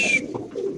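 A male Spanish pigeon gives a short, close, soft coo, alone with no talking.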